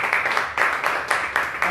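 Church congregation clapping together in a steady, fairly even rhythm, a moderately loud burst of applause filling the room with no speech over it.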